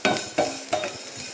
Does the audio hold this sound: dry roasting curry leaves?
yes